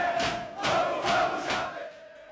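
Football team cheering and celebrating in a locker room after winning a match, a boisterous crowd of voices shouting in repeated bursts, loud and close.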